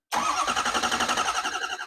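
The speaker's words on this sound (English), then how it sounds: "crank your engine like that" A 6.0 Powerstroke diesel engine cranks on its starter with a rapid, even chugging rhythm, loud and close, running continuously without catching.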